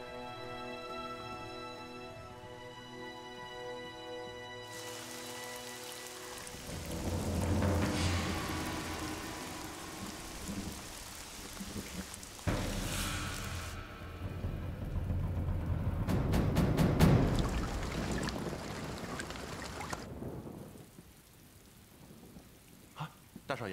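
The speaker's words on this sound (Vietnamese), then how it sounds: "Trời mưa rồi" Steady rain falls in a drama scene at night, with a dull rumble of thunder building midway and a sharper crack near the end, alone without voices.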